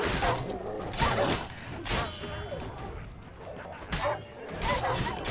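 Wolfhound dogs barking in The Witcher 3: Blood and Wine, a few loud, close barks and yelps in bursts over game combat noise, with no talk over them.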